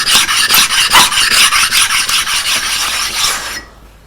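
A benchstone is flattened by rubbing, giving a loud, close, gritty rasp that moves in a steady back-and-forth rhythm for several seconds and then stops abruptly.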